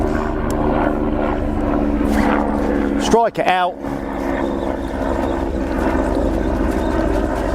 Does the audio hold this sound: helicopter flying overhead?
yes